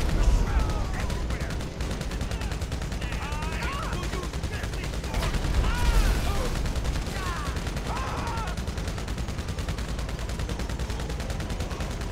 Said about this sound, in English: Dom's shooting me again